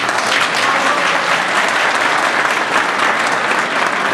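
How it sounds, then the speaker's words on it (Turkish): Audience applause at an Ashura evening gathering in Pazaryeri, steady and dense, filling the whole stretch at close range with no voices over it. "Bozüyük Pazarlar Dernek Başkanı'na ve yönetim kurulu üyelerine huzurunuzda çok teşekkür ediyorum ve alkış istiyorum"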